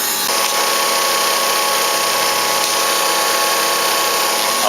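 A power tool runs at a steady 14,000 RPM over a sacrificial foam board, ready to cut foam, giving a loud continuous high whine with a constant tone and no breaks or talking.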